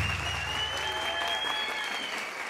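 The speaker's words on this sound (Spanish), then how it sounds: "un aplauso." Studio audience applause on a Colombian TV variety show, a brief steady burst of clapping with a faint tone running underneath.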